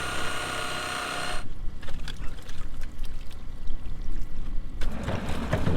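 Water pours and gushes out of a hole cut into a new drainage tile main on a field tiling job, a steady loud flow with bursts of turbulent splashing under machinery noise.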